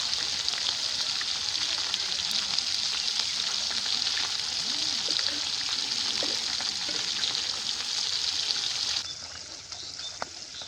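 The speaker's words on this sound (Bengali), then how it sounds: "বাকি যে মাছগুলো আসলে ওই মাছগুলো ভেজে নিবি" Pieces of silver carp fry in a pan, giving a steady, fairly soft hiss of bubbling oil that continues throughout and eases slightly near the end.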